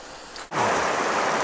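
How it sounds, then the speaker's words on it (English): A rainforest creek in a gorge rushes loud and close as a steady broadband wash, breaking in suddenly after a brief quieter moment. "So it's this beautiful creek here in the middle of wherever we happen to be."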